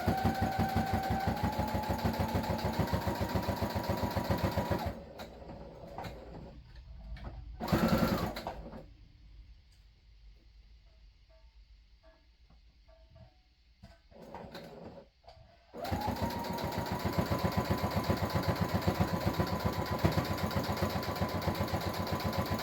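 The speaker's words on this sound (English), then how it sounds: "I'm going to go ahead and sew around here." A sewing machine stitches around a microwavable fabric bowl cozy, running in two long steady bursts at the start and end with a quiet pause between, where a brief clack of handling is heard.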